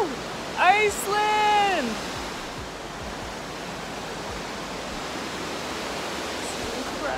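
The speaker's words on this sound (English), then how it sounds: "This is the river leading up to the waterfall." Broad, steady rush of a river flowing toward Skogafoss waterfall in Iceland, close and constant throughout, with a short excited voice shouting near the start.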